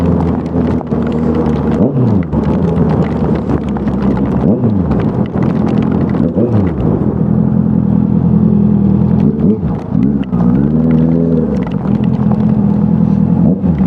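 A Honda CB 650F with an aftermarket exhaust revs loudly and close by, with repeated throttle blips rising and falling over a throaty, rumbling exhaust.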